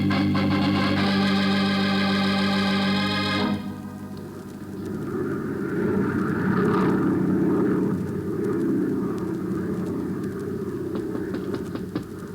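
Propeller airplane in flight as a radio drama sound effect: a loud, steady engine drone with strong harmonic tones for the first few seconds, then settling into a continuous rumbling roar through the rest.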